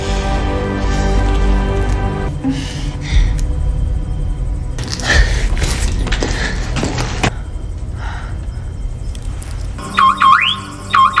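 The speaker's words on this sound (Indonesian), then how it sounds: "si penembak berhasil mematikan alarm mobil" A car alarm blares with harsh electronic tones, ending in rising, sweeping wails over a low rumble and some clattering, with no voices.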